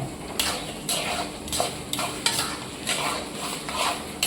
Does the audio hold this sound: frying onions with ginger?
yes